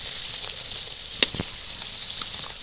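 Nimki, a flaky fried flour snack, deep-frying in hot oil, giving a steady close sizzle with a few brief sharper pops and crackles, no voices.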